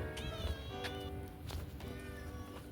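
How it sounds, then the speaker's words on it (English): A cat meows repeatedly at close range, several drawn-out wavering meows over a steady background hiss. "there's a cat who was just meowing at me"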